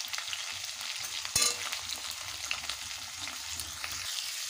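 Potatoes fry in leftover fish-frying oil seasoned with salt and turmeric, a steady close sizzle with stirring scrapes and one brief louder clatter, no talking.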